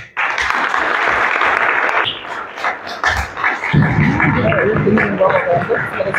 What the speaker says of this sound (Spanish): Y un fuerte aplauso para él.